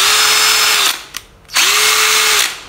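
A Bosch electric drill whirs loudly up close, cuts out for a moment, then spins back up and runs steadily again.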